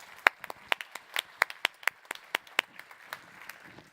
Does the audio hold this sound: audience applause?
yes